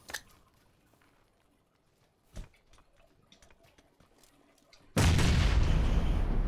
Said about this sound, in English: Stay down, throwing a grenade.